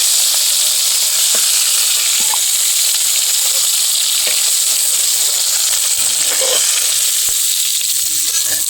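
Rohu fish pieces sizzle in hot oil in a home kitchen: a steady, loud, close hiss of frying with scattered small pops and crackles, no voices.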